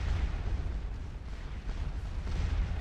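Continuous low rumbling booms of artillery fire pound across a Napoleonic battlefield in Scourge of War Waterloo, the Ligny engagement, a dense, steady barrage with no distinct gaps.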